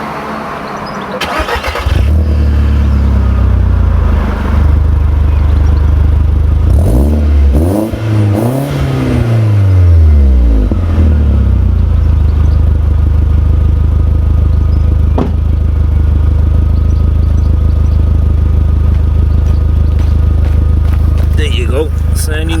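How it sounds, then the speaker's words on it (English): A Mk1 Audi TT engine starts and revs, rising and falling in a few loud sweeps before settling into a steady idle, with a person speaking at the start. "You give it some revs. Yeah, and that sounds lovely."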